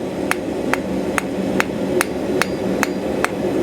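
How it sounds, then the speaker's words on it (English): A cross-peen hammer gently forges a small steel ring on a tiny bit of steel used as an anvil. It strikes nine evenly spaced, ringing metallic blows, close and loud over a constant workshop roar. "So I'm now using cross-peen hammer"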